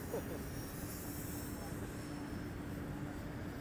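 An RC Cessna 182 model airplane coming in to land, heard as a faint, steady engine drone with an even hiss that holds level throughout.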